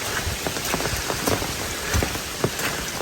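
Big raindrops pattering steadily on a forest trail near waterfalls at Ricketts Glen State Park, a dense close rain with scattered heavier drop impacts and no talk.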